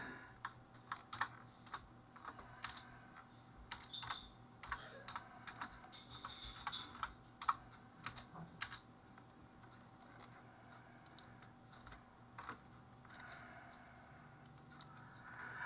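A computer keyboard being typed on to enter a name during Windows 11 setup, with quiet, close, irregular clicks in short bursts, then a pause and a few more taps.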